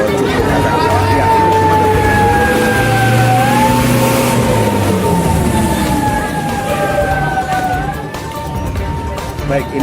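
Fire engine siren wails in repeated rising and falling sweeps at a burning night-market kiosk fire in Tegal, loud and fairly near over traffic and crowd noise.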